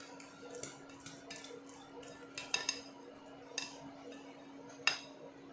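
A spatula scrapes and taps against a salad bowl while the last of a ham and gruyère cake batter is cleared out, soft close scrapes punctuated by a few sharp clinks against the bowl.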